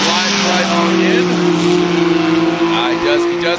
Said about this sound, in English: that exhaust note now coming in from the last outside zone